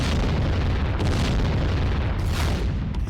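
Explosions from Iranian ballistic missile strikes on Beersheba, Israel: a sustained, loud, dense roar of deep rumbling blasts with heavy low-end energy and no clear gaps, continuous throughout.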